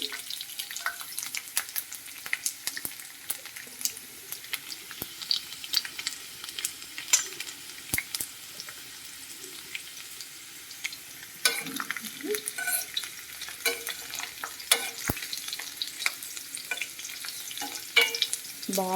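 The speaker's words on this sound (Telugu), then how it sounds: "కొంచెం జీలకర్ర అలాగే కొన్ని వెల్లుల్లిపాయలు ఓకే వేసుకొని బాగా ఫ్రై చేయండి" Cumin seeds and garlic frying in a pan for a coriander-mint chutney, a crackling sizzle with busy, irregular scraping and tapping of a stirring spoon, close up and free of talk.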